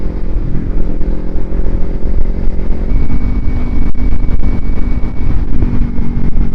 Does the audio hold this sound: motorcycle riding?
yes